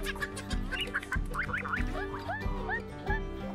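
Young ducklings and a flock of chickens squabble in a coop, with repeated near quacks and clucks in an uneven, agitated rhythm.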